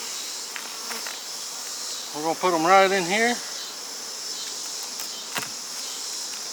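Honey bees buzz over exposed combs as a steady, low insect hum in the background, with a brief spoken remark partway through and a couple of faint clicks.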